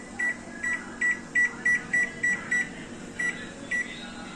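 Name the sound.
oven being set to convection mode, beeping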